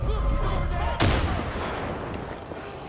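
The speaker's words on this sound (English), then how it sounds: "Grenade!" A single heavy grenade blast in Far Cry 5, one sharp loud boom that rolls off into a rumbling tail, set over a steady background hum.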